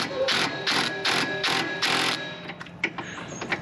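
A wrench tightens a nylon nut against a washer on a cargo trailer camper jack, giving five evenly spaced ratcheting bursts followed by a few irregular metallic clicks and taps, close and moderately loud.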